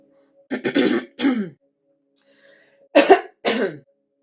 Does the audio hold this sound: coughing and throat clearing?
yes